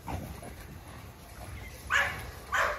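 An American Bully puppy gives a couple of short, high whimpering yips near the end, after a quiet stretch of faint room noise.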